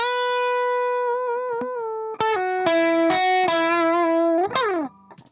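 Heavily distorted electric guitar plays sustained notes and chords with steady, saturated tone, closing on a quick bend and brief fading chatter.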